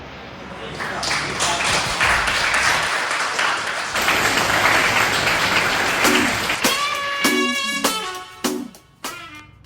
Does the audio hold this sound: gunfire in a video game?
no